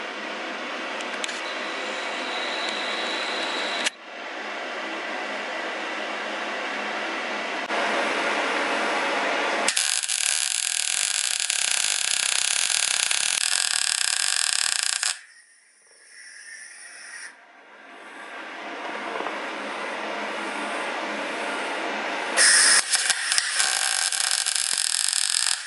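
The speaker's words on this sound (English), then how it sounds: "First weld on the diff" Arc welding on a diff brace kit for a Nissan Patrol makes a harsh, steady crackling hiss in long bursts, broken by a few short pauses, with no talking.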